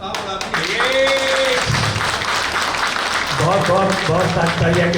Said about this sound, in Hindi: आपकी तालियां वक्ता का उत्साह बढ़ाती हैं।